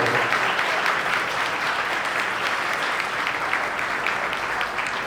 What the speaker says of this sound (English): All of our board members, round of applause to you all.